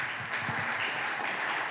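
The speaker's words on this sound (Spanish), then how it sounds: "Un aplauso para esta niña, ¿vale?" An audience at a lecture claps for a young girl, a short, even burst of applause from many hands heard alone without voices.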